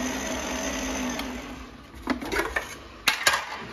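A spatula scrapes sticky scone dough and flour from the sides of a mixing bowl, a few short scraping and knocking strokes after a quiet start.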